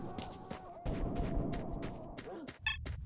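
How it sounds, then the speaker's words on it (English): Gunfire in S.T.A.L.K.E.R.: Shadow of Chernobyl: a run of sharp, booming shots, some close and some farther off, cracks out at irregular intervals over a low rumbling background. "hear gunfire."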